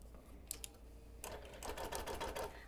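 A quilting sewing machine running a quarter-inch basting stitch along the outer edge of a Quilt of Valor, a quiet pause with faint ticks, then a rapid burst of needle stitching near the end.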